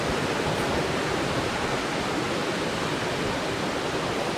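The Niagara River whirlpool at Niagara Falls, Canada, rushes in a steady, dense roar, broadband and unbroken, water churning and rotating clockwise.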